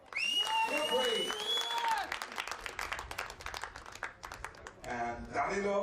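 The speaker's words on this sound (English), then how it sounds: "Big applause for Bulakova!" Spectators at a junior trap shooting trio event applaud Ukrainian bronze medallist Bulakova, scattered clapping rising beneath a loud announcer's voice that carries on over the crowd.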